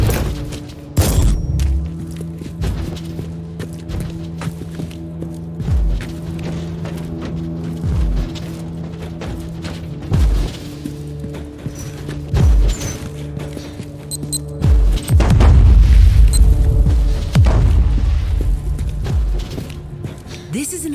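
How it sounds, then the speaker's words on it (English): Heavy booming blasts from Marauder bomber bombardment in Warhammer 40,000: Inquisitor, a string of deep thuds landing every couple of seconds and building to a large rumbling explosion, set under continuous talk and a low droning background. "The Marauder bombers are launching a second wave of bombardments."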